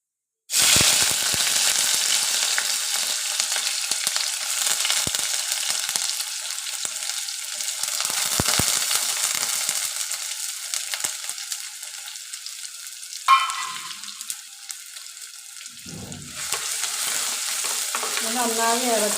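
Onion and garlic, added after fenugreek, hiss and sizzle loudly in hot oil in a pan while being stirred for a fish fry and rasam meal, a continuous close crackle with occasional scraping stirs.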